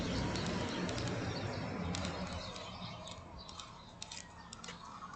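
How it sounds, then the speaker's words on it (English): Birds chirping and cooing outdoors, small scattered calls over a steady broadband background hiss, with no voices present. "Hear the birds."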